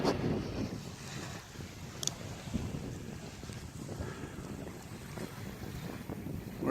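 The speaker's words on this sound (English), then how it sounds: "trying to block the wind from the microphone" Wind buffets the microphone at the edge of Long Island Sound on a foggy February night, a steady low rumble with gusty swells and faint lapping water, no voices.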